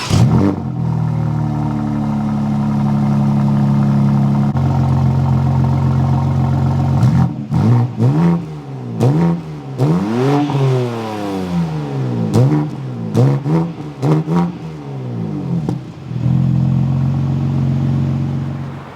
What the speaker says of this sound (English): Go ahead and take a listen to the CS's titanium exhaust